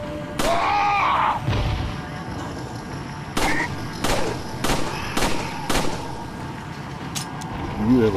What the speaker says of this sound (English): Use your hand grenade. You have to pull a pin. Make sure you throw it far away from you.